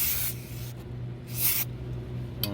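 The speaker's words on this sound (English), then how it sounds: "We're going to spray this side and then use it." Cleaner sprays from a bottle onto a rag during a 2003–08 Cadillac CTS brake caliper rebuild: two short hissing bursts and a brief third spritz, quiet and close over a low background hum, with no talk.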